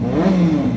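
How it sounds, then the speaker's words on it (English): A motorcycle engine gives a short rev, rising briefly in pitch and falling back to a steady idle, close and fairly loud. "It's where you can give your throttle a bit of a blip."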